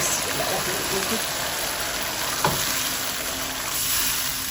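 Half a cup of water poured into potatoes and cauliflower frying in a pan, giving a steady loud sizzle and bubbling throughout, with a brief clatter near the middle.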